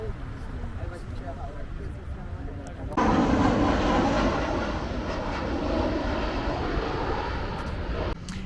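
A steady roaring aircraft engine fills the air, suddenly growing louder partway through and holding as a broad rumble, with voices faintly underneath.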